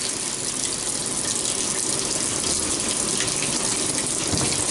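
Water gushing steadily into an outdoor washing machine filling for its rinse cycle, a continuous close rushing hiss with no speech.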